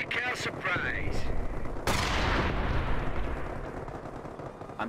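A .30 cal machine gun in Company of Heroes opens up amid heavy battlefield noise, a loud sharp blast followed by a sustained rumbling roar of fire and explosions.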